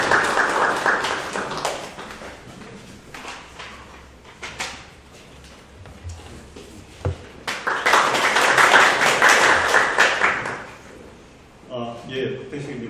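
Scattered clapping at a Korean academic society conference opening, irregular sharp claps that swell into a fuller round of applause before fading, with a voice speaking near the end.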